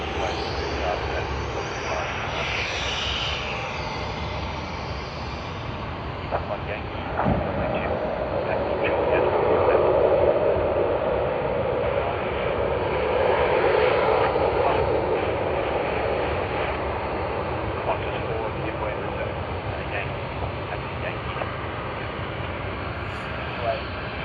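Airbus A380 jets of Singapore Airlines and Emirates at Sydney Airport, a long steady engine roar swelling mid-clip and slowly fading, with faint voices underneath.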